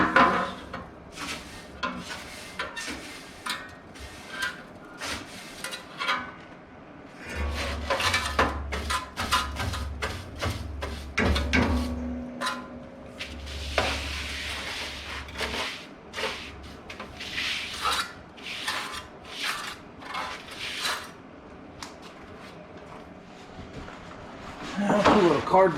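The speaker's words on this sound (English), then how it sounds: "Just going to sweep the loose stuff off of it first." Loose debris is swept off an old wood stove with a brush, giving repeated scratchy rubbing strokes and occasional knocks, with a low rumble in the middle and speech at times.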